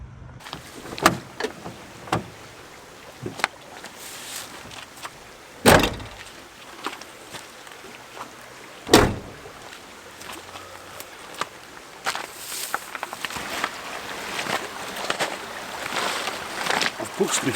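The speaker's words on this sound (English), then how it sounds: "drop the window, put these in place, roll the window back up" Electric window on a 4x4 Sprinter campervan lowered and raised again, with several sharp thumps and clunks in between as something is fitted into the opening, all close by at a riverside campsite.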